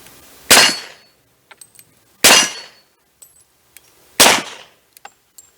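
A Smith & Wesson M&P pistol fires 230 grain slugs in three sharp, loud shots about two seconds apart, each followed by faint metallic clinks of casings.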